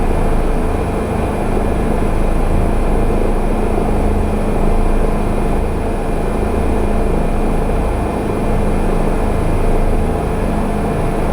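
A steady, droning engine hum with a low rumble runs throughout at constant loudness, a Bell 407 helicopter turbine heard from inside in Microsoft Flight Simulator over Bora Bora.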